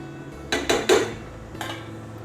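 Moringa leaf soup (murungai keerai thanni saaru) is stirred in a pot, with a quick run of three close metallic clanks and scrapes from a ladle and one more clank a moment later, heard up close and alone.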